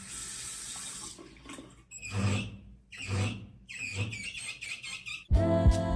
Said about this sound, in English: The water pressure is solid and the faucet looks beautiful,